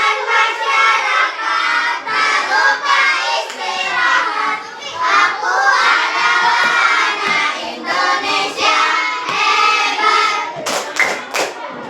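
Schoolchildren performing a rhythmic clapping chant together, loud and close, with voices chanting in unison over bursts of hand claps and a few sharp, separate claps near the end.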